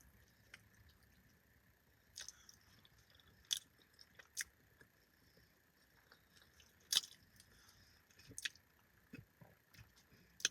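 Someone eats an Arby's steak and macaroni bowl with barbecue sauce, starting on the macaroni; faint, close, irregular chewing and soft moist bites come in a handful of brief clicks and squishes over a quiet background, with no talking.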